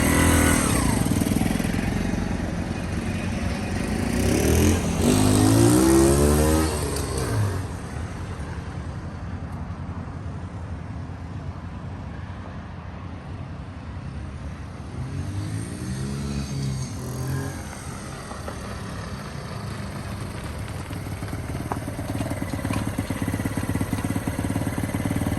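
A 2015 Lifan Pony 100cc motorcycle engine runs steadily while riding, its drone rising and falling as it revs up and shifts, loud and close throughout without talk.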